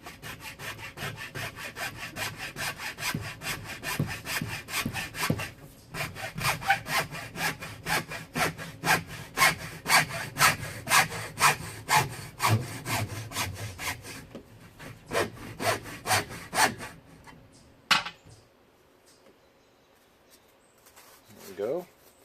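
A hand saw cuts through a plastic sink drain pipe, its steady back-and-forth strokes loud and close for about seventeen seconds, then stopping, with a brief clatter and a short scrape near the end.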